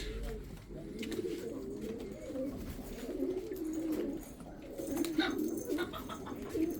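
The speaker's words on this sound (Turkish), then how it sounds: "Bakınız Bağdat güvercini ve güvercinler." Baghdad pigeons and other pigeons cooing continuously in soft, rolling murmurs, several birds close by, with faint chirps and background noise.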